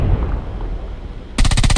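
Gunfire in a video game: after a low rumbling stretch, a loud, rapid burst of automatic shots cracks in close up at a fast even rhythm.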